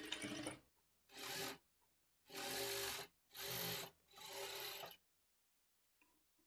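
A sewing machine runs a 1/4 inch margin stitch on a plain blouse in five loud, close bursts of whirring, each a second or so long, split by short pauses, and then it falls quiet.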